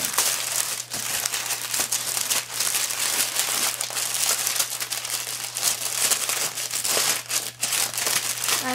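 Tissue paper crinkles and rustles as it is tucked into a baby's keepsake box, close and fairly loud, with dense, irregular crackling bursts and no talk.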